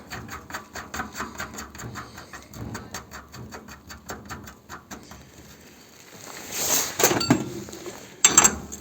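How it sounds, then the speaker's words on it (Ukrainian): A nut spun onto the bearing of a mountain bike hub, giving a quick run of light, evenly spaced ticking clicks that fade, then a couple of close metallic clinks near the end. "Зараз накрутимо гайку."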